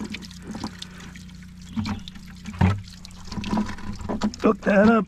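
Water from a pond-fed pipe for a garden supply trickles and splashes in uneven bursts nearby, while someone talks briefly over it.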